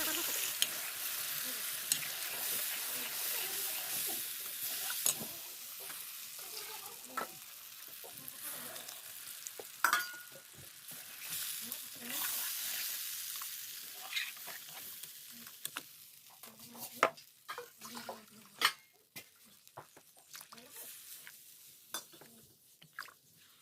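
Rice papad batter with turmeric and salt is stirred in a pan on the stove, a soft continuous bubbling sizzle broken by scattered scrapes and clicks of a spoon against the pan, with no talk.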